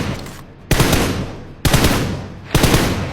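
Rapid automatic gunfire from spray shooting in the PUBG Mobile video game comes as three loud, dense bursts, each stopping abruptly and fading briefly before the next.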